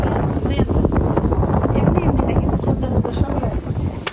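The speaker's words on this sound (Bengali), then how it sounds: "হচ্ছে সব উড়াই নিয়ে যাবে এমন ঝড়, বাতাসেরও সাউন্ড পাওয়া যাচ্ছে" Strong storm wind roars steadily and loudly against the microphone, with constant buffeting and gusty rumble throughout.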